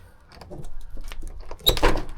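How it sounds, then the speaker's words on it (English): A door swings open inside an abandoned building in a remote Appalachian town in Virginia, with a sharp creak and clunk partway through, close and fairly loud over faint rustling. "I wonder if I can open up this door."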